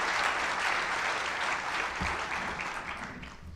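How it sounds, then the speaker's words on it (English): Sustained audience applause fills an awards ceremony hall, a steady dense clapping that holds for several seconds before gradually thinning near the end. "A round of applause."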